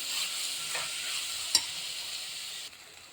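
Onions frying over a high flame for chicken biryani, a continuous soft hiss and sizzle with faint stirring scrapes and a single sharp metallic tap near the middle, no talking.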